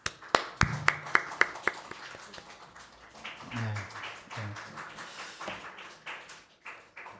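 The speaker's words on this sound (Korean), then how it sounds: "우리 박수로서 환영하겠습니다." A church congregation claps to welcome new members: a handful of sharp, evenly spaced claps at first, then softer, scattered clapping with faint voices in a quiet hall.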